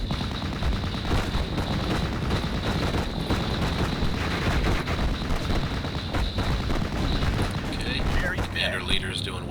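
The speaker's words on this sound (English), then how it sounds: "the AI of this unit fires at the closest, biggest threat. So, in this case, it switched over to the rifles." Rifle gunfire from a Normandy 44 video game battle: dense, rapid shots and bursts crackle continuously over a noisy battlefield bed, with someone talking over the shooting.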